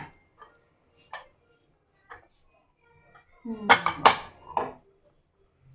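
A few light metallic ticks, then a clattering clang of a metal lid lifted off a pot of cooked lentils and vegetables for drumstick sambar, followed by a brief rattle.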